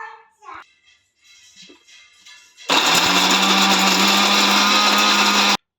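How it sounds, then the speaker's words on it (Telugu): Kitchen mixer grinder switching on abruptly and whirring loudly and steadily for about three seconds while grinding dates for dry fruit laddu, after a quieter stretch of handling noises. "ఇప్పుడు ఖర్జూరాన్ని కూడా మనం మిక్సీ పట్టుకోవాలి."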